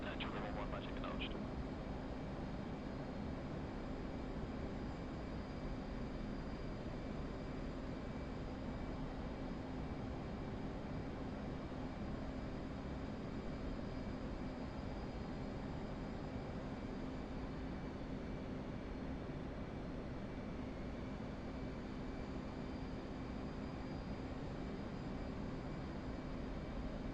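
F/A-18 Hornet jets in the DCS flight simulator, a three-ship flight at altitude, with a constant engine roar and hum droning steadily throughout, under occasional radio chatter.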